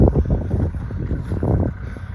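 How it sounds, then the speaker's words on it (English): Gusty wind buffets the microphone outdoors near a Kubota L3940 tractor while moving sand, a continuous low rumbling roar that swells and dips for a couple of seconds. "Try to block the wind."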